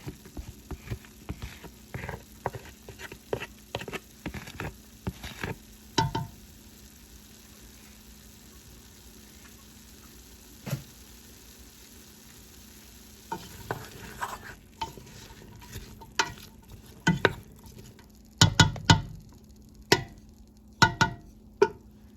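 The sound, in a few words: chopped garlic sizzling and stirred in pot for chicken soup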